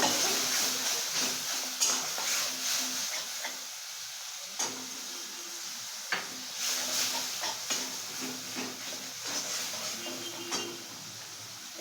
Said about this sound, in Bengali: এবার মা টক দই দিয়ে দিচ্ছে ফেটিয়ে রাখা টক দই আছে দিয়ে